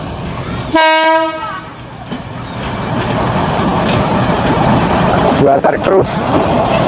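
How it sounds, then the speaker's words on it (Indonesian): A loud horn from a 1953 German-built Krupp tourist train blasts once near the start, then the train rumbles steadily past up close, with a second brief horn toward the end. "Ini kereta api wisata ya."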